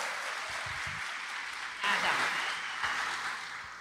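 An audience applauds at a government launch event held by the Amazonas state education secretariat; steady broadband clapping fills the room and swells slightly about halfway through, with no voices over it.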